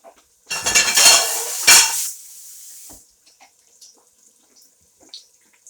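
Baby lamb meat drops into a cooking pot with ginger paste, a loud clattering rush and sizzle for about two seconds, then a fading hiss and a few light knocks of metal on metal.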